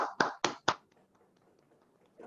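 A few sharp claps close by, about three in quick succession, then a quiet pause and faint murmur.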